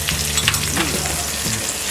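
Cooked flat beans (val papdi) mixed in a frying pan, giving a short burst of close sizzling and spatula scraping, loud and alone with no talk.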